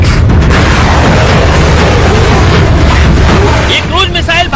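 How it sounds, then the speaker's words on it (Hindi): A BrahMos supersonic cruise missile fired from a warship at sea, a loud continuous roar and rumble of launch and blast filling the whole stretch, with a voice speaking over it near the end. "ये ब्रह्मोस की ताकत जिसे समंदर में एक वॉरशिप से दागा गया और ये बिल्कुल निशाने पर जाकर लगे।"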